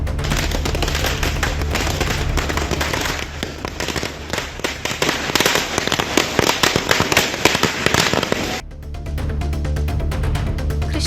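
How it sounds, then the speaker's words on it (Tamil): Firecrackers bursting in dense, rapid volleys at a political celebration, loud and continuous crackling for most of the stretch before thinning into sparser pops near the end, with no talk. "பட்டாசு வெடித்து இனிப்பு வழங்கி கொண்டாட்டத்தில் ஈடுபட்டனர்."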